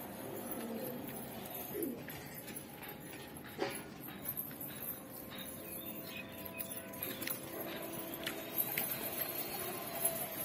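High-flying Girebaz pigeons, kept in a loft for sale in Pune, coo softly and repeatedly at a low level over a steady background hum, with scattered faint rustles and flutters.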